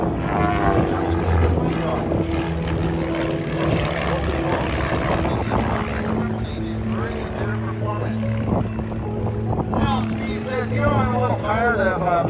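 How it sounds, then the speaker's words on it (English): An air show propeller aircraft passes at Bremerton, Washington, its steady droning engine tone sustained throughout while an announcer talks over it. "This first aircraft coming down"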